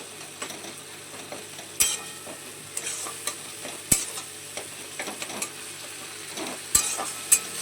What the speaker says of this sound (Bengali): আদাটা দিয়ে আরও একটু নেড়ে নেব।